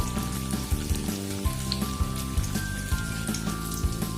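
Paneer shallow frying in oil in a pan until light brown, a steady close sizzle with a dense patter of popping oil and a few soft clicks from a spatula.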